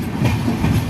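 From aboard the KSR Bengaluru Express, a steady rumble and wheel clatter fill the carriage as the train rolls into Udgir railway station, close and continuous for under a second.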